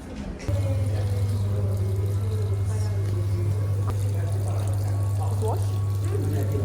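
Water runs and pours continuously from a tap or outlet as a steady, loud splashing stream that starts abruptly and carries on without a break, with street noise around it.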